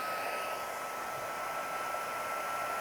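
A heat embossing tool blows hot air in a steady, even rush with no breaks, fairly close and moderately loud.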